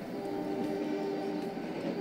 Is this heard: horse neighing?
no